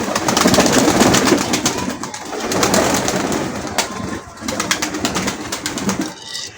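Pigeons coo steadily while feeding on scattered wheat grain, with soft overlapping calls close by and light pecking clicks throughout.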